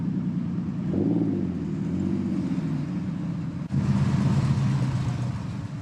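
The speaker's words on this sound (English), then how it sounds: "Some serious cars turning up." Classic cars arrive at a car meet, their engines idling and rumbling close by with a brief rev near the start, and another steady engine drone takes over partway through.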